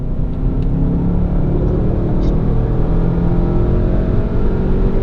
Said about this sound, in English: There's your gear shift.